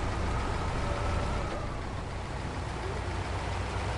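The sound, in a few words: truck engine in SnowRunner video game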